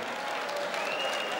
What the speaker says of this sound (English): Measured applause.